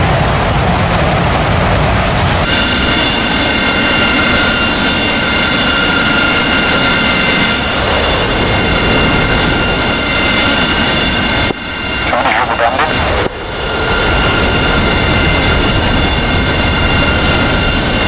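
An F-15 jet takes off in DCS World with a loud, continuous roaring whine that briefly dips near the middle before surging back, while radio chatter is heard over it.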